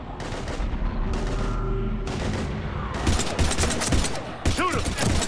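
Intense gunfire during a combat scene in the video game Mass Effect 3, with bursts of rapid shots and louder blasts over a low rumbling background, growing denser and sharper toward the end.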